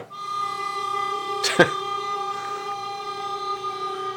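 A sustained, eerie drone made by granular synthesis of a cat's meow, with steady layered tones and a brief sharp burst near the middle, smeared and grainy like heavily processed audio.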